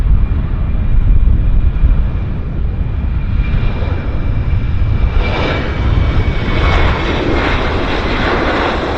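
A heavy airliner bound for Houston IAH taking off at Vancouver airport, a loud sustained jet engine roar with rumbling low end that holds steady throughout, heard alone without talk.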